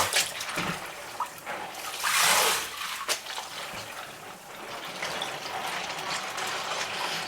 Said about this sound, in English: now that our sink is filled with hot water, we can now swish these keys around pretty easily